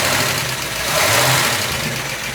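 An old yacht's big-block marine engine, with only 460 hours on it, runs loud and close in a steady, throbbing idle with a slight swell in the middle and no voices over it.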